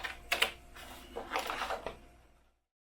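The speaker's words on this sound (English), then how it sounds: "I'm just going to go around" Scissors cut around a paper photo in a few close, crisp snips and crunches, then stop and leave silence.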